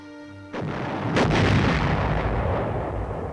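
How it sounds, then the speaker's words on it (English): Army artillery firing during training, a heavy boom that bursts in and rolls into a long, loud, rumbling blast lasting several seconds with no voices. "Gun loading and firing."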